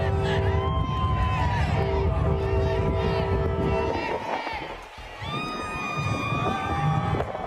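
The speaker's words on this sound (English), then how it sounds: "Voters in the key battleground state of Philadelphia lined the surrounding streets, waving flags and cheering USA" Crowd of supporters lining the streets outside McDonald's in Philadelphia, cheering and shouting with flags waving, a loud mass of voices with shrill whistle-like cries that dips briefly and swells again.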